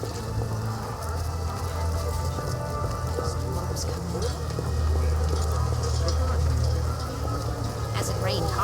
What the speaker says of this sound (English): raining so hard I can't see anything.